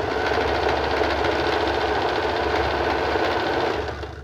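A sewing machine runs continuously, stitching small pleats onto a fabric frill, a loud close mechanical whir with rapid steady needle rhythm that eases off only at the very end.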